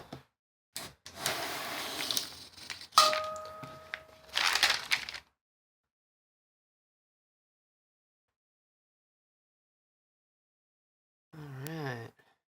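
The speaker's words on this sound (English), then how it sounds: "we're going to put Vanya away temporarily while I split down the starter pack loaf" A loaf of handmade starter-pack soap is split down, giving several bursts of crunchy, crumbly cutting noise close by over about four seconds, followed by a long silence and a brief tonal sound near the end.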